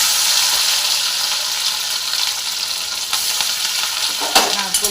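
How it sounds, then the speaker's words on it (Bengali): Mung dal fries in a pan, a dense, steady sizzle running throughout with a few scraping stirs near the end. "আর মুগ ডালটাকে একটু ভেজে নিই।"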